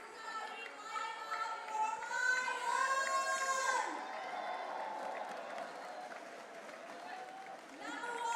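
A large stadium crowd at a cerebral palsy football match between Indonesia and Thailand roars and cheers continuously, swelling loudest midway before easing to a steady crowd din.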